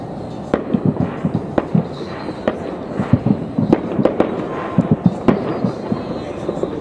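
New Year fireworks in London burst repeatedly, sharp bangs and crackles in an uneven rapid series, some distant and some closer, with a voice faintly audible.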